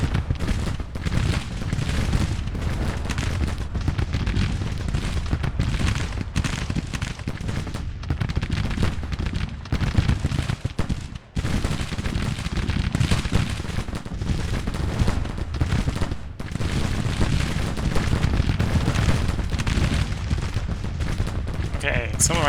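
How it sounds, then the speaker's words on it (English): Continuous booming artillery and rifle fire from a Union-side Civil War battle at Alexandria in the game Grand Tactician: The Civil War, dense rolling volleys that keep up loudly for the whole stretch. "some of our artillery has arrived at position. It is opening fire."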